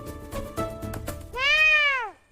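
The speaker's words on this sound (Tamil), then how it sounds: "இந்த பூனை இருக்கே" A cat in an animated comic story gives one clear, drawn-out meow, heard alone and close after some brief earlier sounds.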